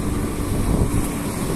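Strong cold wind buffeting the microphone outdoors on a walk, a loud, constant low roaring rumble with no speech over it.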